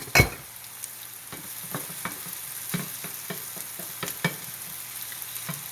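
Sausage frying in olive oil in a pan, a steady soft sizzle broken by repeated crackles and pops at an irregular rhythm, with one sharp clatter at the start; close and fairly quiet, no voices.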